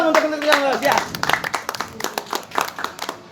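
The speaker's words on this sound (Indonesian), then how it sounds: "Tepuk tangan dong untuk teman-teman Bagus ya." A group claps together for a cycling team at an indoor sharing session. A voice speaks at first, then brisk, fairly close applause runs steadily to the end.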